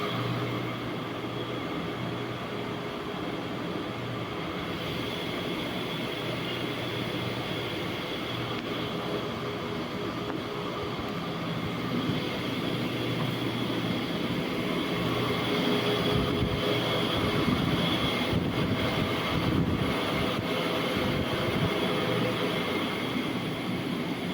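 A MEMU train runs steadily, with a continuous rumble and hum and no pauses or voices.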